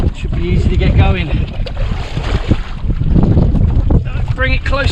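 Strong wind on a beach during wing foiling buffets the microphone in continuous loud gusts, with water splashing and a voice speaking underneath.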